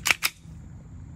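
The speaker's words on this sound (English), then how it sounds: "God, let's rack it." A handgun fitted with Ghost trigger springs being racked, two sharp close metallic clacks about a tenth of a second apart, then quiet room tone.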